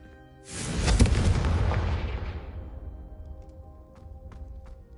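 A Confringo blasting curse explodes in the Hogwarts Legacy game: one loud, close boom with a sharp broadband burst that rolls into a long rumbling decay, with faint clicks trailing off.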